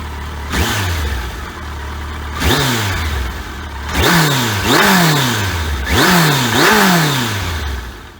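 A heavy Kawasaki Concours inline-four sport touring motorcycle rides close by, its engine rising repeatedly through the revs with falling pitch sweeps between gear changes, loud and with no one speaking.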